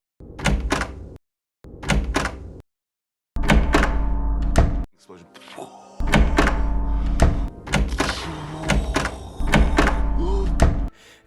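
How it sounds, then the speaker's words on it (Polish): A series of heavy thunks and clunks, some with a creak, of doors opening and shutting in a Resident Evil-style video game, repeating in bursts with short silent gaps between them. "w tej grze dźwięki otwierania i zamykania drzwi"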